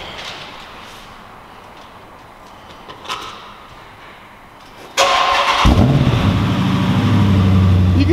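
A Dodge Charger SRT8 with aftermarket exhaust pipes cranks and fires up after a few seconds of quiet background noise, then settles into a loud, deep, rumbling idle close by.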